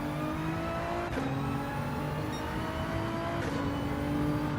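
GTR engine in a racing video game, a steady sustained drone with shifting pitch as the car pulls under power, with brief gear-change dips; continuous and up close.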